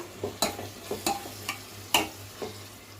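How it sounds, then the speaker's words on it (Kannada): Tomatoes frying in a pan for chicken dum biryani, with sharp scraping stirs and clatters of a spoon at irregular intervals over a faint sizzle and low steady hum, close up without speech. "ಟೊಮಾಟೊ ಚೆನ್ನಾಗಿ ಸ್ವಲ್ಪ ಫ್ರೈ ಆಗಿ"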